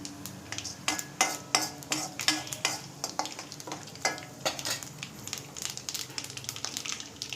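Cabbage is stirred in a pan of frying tempering, with a quiet sizzle underneath and a quick run of spatula scrapes and clinks against the metal, close by.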